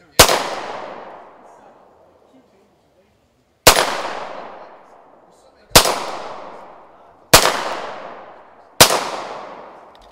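Five sharp gunshots ring out one at a time at a militia training camp, each loud crack followed by a decaying echo, spaced about one to three seconds apart with quiet gaps between.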